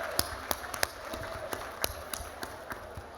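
Sparse, separate claps from an audience at the 2024 NEA National Leadership Summit, each one a sharp isolated crack spaced irregularly over quiet room hum.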